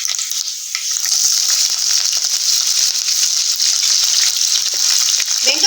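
Small onions and a sprig of curry leaves hiss and crackle loudly in hot oil in a pan, a dense, continuous sizzle for several seconds with no talking.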